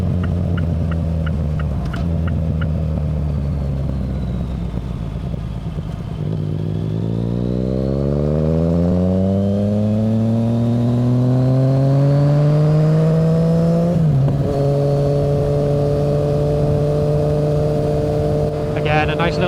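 A stream of motorcycles on the Wirral Egg Run turning down toward Thornton Hough, a loud, continuous engine roar that climbs in pitch as the bikes accelerate, then holds steady.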